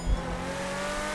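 A car engine in GTA 5 Online revs with a brief low thump, then holds a steady, tonal roar that rises slightly, close and fairly loud with no talking.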